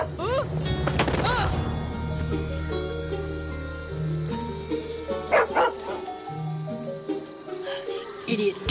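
A dog lets out a burst of barks and yips, then whimpers and whines, close and loud, with music and scattered sounds of a comedy scene around it.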